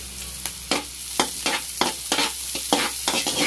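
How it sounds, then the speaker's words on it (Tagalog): Ginger frying with onion in a pan, stirred in a quick regular rhythm of about eight scraping strokes over a constant close sizzle. "Haluin muna natin. Hanggat mag-brown siya."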